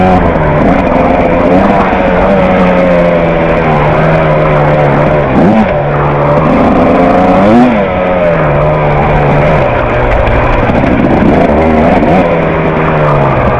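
A 2025 KTM 300 XCW Factory Edition two-stroke dirt bike rides over rocks, its engine loud and close, rising and falling in pitch with repeated blips of throttle as the bike picks its way through.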